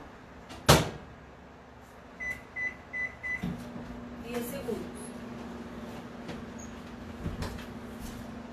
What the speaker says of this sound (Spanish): Lo voy a poner 10 segundos en el horno de microondas.